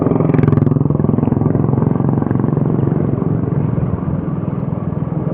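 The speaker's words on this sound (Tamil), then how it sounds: "ஏறும் போதுனா நம்ம கண்ட்ரோலில் இருக்கும் பைக்கு" A motorcycle climbs uphill on a solo ride near Thiruvannamalai, its engine droning in a loud, steady, close rumble for the whole stretch with no talking.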